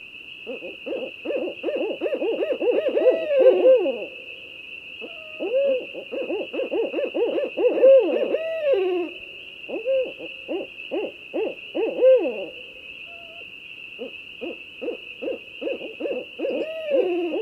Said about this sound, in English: barred owl has one of these absolute classic North American bird calls